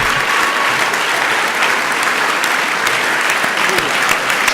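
A town hall audience in Soustons gives thunderous, dense, continuous applause for a local man, loud and close throughout with a faint murmur of voices beneath.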